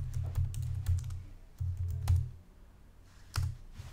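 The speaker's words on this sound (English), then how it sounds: "I could begin to type in" Bursts of typing on a computer keyboard while entering a student's name in Google Classroom, close and clear, with short pauses between runs of keystrokes.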